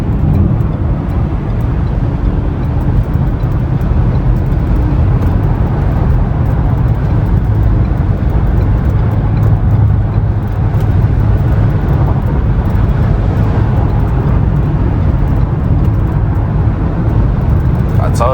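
A 2024 Ford Edge ST-Line driving in daytime, heard from inside the cabin as a steady low road and engine drone with constant tire noise and no talk.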